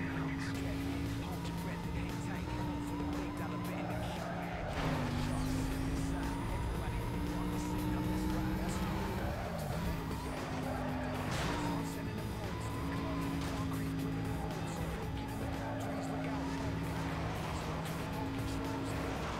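Supercharged V8 race car in Need for Speed Most Wanted, a steady loud engine drone with gear-shift dips and rises, occasional tire scrubs, and a voice talking over it.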